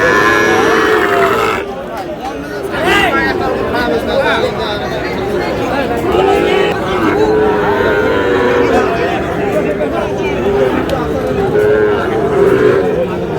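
Sahiwal bull calves moo repeatedly at a crowded cattle market in Cumilla, with long, loud, drawn-out calls rising over constant crowd chatter and nearby talking.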